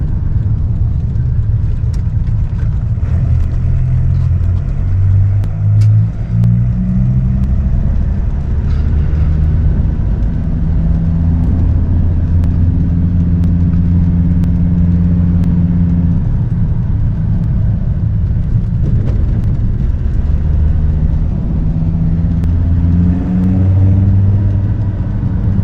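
A 1997 Dodge Viper GTS, freshly tuned, drones steadily from inside the car on a test drive, its loud low engine note rising and falling through gear changes and acceleration with constant road rumble.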